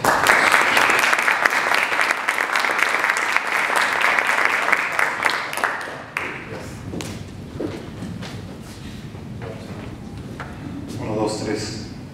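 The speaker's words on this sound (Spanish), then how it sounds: "quiero que le den un aplauso muy fuerte" Loud, dense audience applause at a business talk on healthy companies fills the first six seconds, then fades into scattered claps and murmuring crowd noise.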